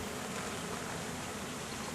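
Honeybees buzzing during a beehive inspection, a dense, faint, continuous hum with no talking.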